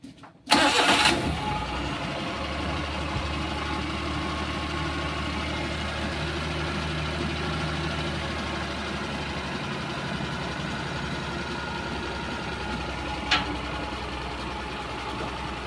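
A car engine cranks and catches after a distributor cap is fitted, then settles into a steady idle that runs on, close up, with a brief click near the end and no talk.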